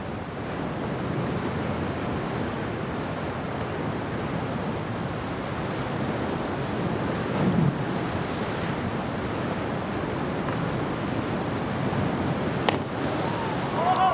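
At a cliff diving site in Puglia, Italy, ocean waves and swells surge against the rocks in a continuous roar with wind buffeting the microphone, steady and fairly loud throughout.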